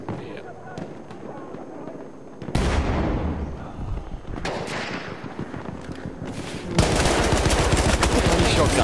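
Gunfire in the video game Battlefield 1, with rapid bursts of automatic fire and sharp shots that grow louder and denser, continuous and mixed with game noise.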